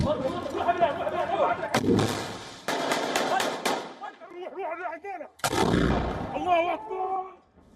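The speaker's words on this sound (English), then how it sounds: "The militants can be seen shooting guns and operating rocket launchers in the video." Gunfire and rocket launcher blasts from militants fighting in Khan Yunis, several heavy booming reports and sharp bursts in close succession, heard beneath a voice speaking over the action.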